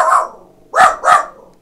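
Two sharp dog barks from the video game Warhammer Vermintide 2, coming in quick succession after a fainter earlier yelp, close and loud with no talk.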